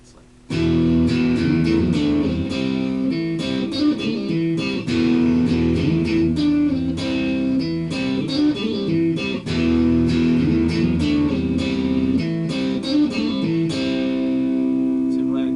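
Electric guitar riff from Skunk Anansie's "Weak" played at full speed, loud and dense with distortion and effects, strummed chords and picked notes driving steadily from start to finish.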